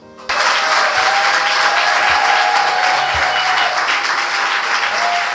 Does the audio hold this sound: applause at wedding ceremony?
yes